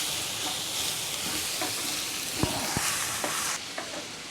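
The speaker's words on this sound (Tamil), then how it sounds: "சாஸ் போட்டு உப்பு போட்டு நல்லா கலக்கிட்டோம்" Schezwan sauce and salt are stirred into vegetables in a hot pan for Schezwan noodles, a steady sizzle and hiss broken by scraping strokes and a few sharp knocks of the utensil against the pan.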